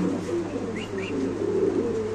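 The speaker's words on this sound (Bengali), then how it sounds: "দেখেন বাচ্চা বয়সে অলরেডি নরের ডাক ফুটে গেছে" A young male Spanish pigeon, only two months old, coos steadily and close by, its low throaty rolling call continuing throughout with no talking over it.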